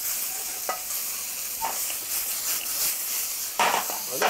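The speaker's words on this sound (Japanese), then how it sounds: "やっぱね、中華鍋が、はい、チャーハンとか作るときは一番いい。" Fried rice stir-fried in a Chinese wok over high heat, a steady bright sizzle with intermittent scraping and tossing clatters, fairly close.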